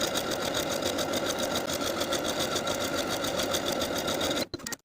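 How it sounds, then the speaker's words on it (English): A sewing machine runs steadily, stitching a shell tuck finish along the hem of a t-shirt. The motor hums in a fast, even rhythm with no voices, then stops abruptly near the end. "I'm going to sew those stitches in the same exact way as I did for the bottoms of the sleeves"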